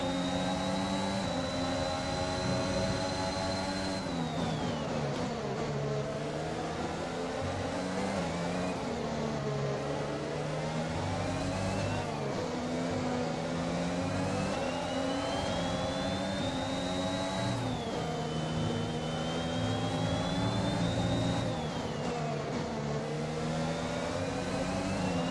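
Formula 1 car engines scream in the F1 2021 game at Abu Dhabi, loud high-revving whines rising and dropping through gear changes as several cars race close together, with no talk.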